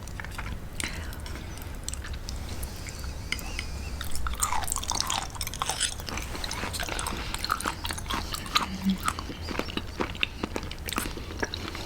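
Close, wet chewing and biting of raw liver during a mukbang, with squishy, moist mouth sounds repeating steadily.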